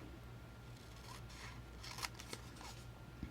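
Paper being cut with scissors while making a mini album page: faint, close snips and crisp crunches, a few sharper cuts near the end, over a quiet background.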